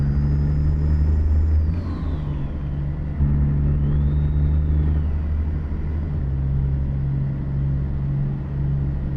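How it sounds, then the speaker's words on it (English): Heavy haul truck engine in American Truck Simulator, a big-gun engine pulling a drop deck trailer: a steady, deep, loud rumble that holds throughout, with slight rises in pitch as it works. "He's got my big gun heavy haul engine in there,"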